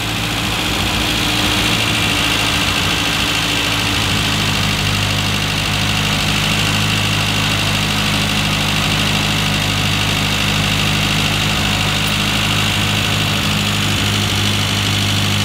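A Classic Mini engine on a carburettor set up for E10 fuel idles steadily and loudly up close, a continuous even drone with no pauses.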